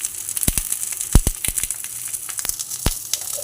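Pomfret fish paturi sizzling in a pan, with a steady high hiss of hot oil and scattered sharp crackles and pops close by; no talking.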